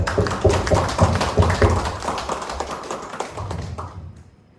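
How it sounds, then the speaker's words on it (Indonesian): Clapping from the audience at the opening of a digital-application socialization event, a steady patter of many hands that holds for several seconds, then thins out and stops near the end. "Mari kita berikan tepuk tangan kepada sambutan-sambutan yang luar biasa."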